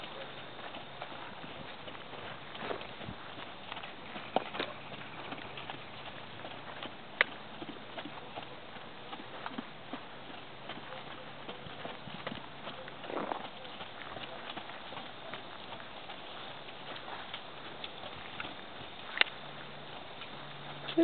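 A horse's hoofbeats patter faintly and rhythmically on the ground as it is lunged at a canter, soft and somewhat distant under a steady background hiss.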